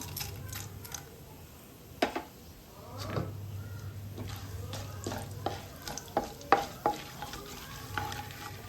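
Cumin, mustard seeds and chana dal hit hot oil, giving a low sizzle with scattered sharp crackles and pops spread irregularly throughout, close by and without talk.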